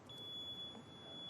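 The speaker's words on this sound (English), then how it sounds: "So that's a fire alarm." A piezo buzzer driven by a microcontroller sounds a continuous high-pitched tone like a fire alarm. It is steady and faint, with low room noise underneath, for the whole short clip.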